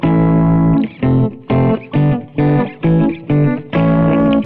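A chord progression played as a musical demonstration: about eight loud, sustained synth chords with distortion, each held briefly and separated by short gaps, with no talking.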